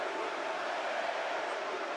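Spectators at an LFA MMA 221 title fight between Shannon Clark and Beatriz Consuli cheer loudly in a steady, unbroken roar that fills the arena.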